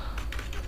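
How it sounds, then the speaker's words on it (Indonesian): Computer keyboard typing while a document is written in Microsoft Word, a few soft key clicks in quick bursts over a steady low hum, close and fairly quiet. "Coba saya akan mengetik dokumen"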